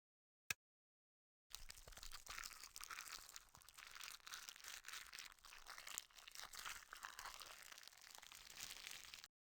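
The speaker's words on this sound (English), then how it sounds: "Crunching sound it makes as you cut." After a brief click and a short pause, steady crunching and crackling runs for about eight seconds as organs are cut during a dissection in the video game Bully, close and unbroken, with no talking.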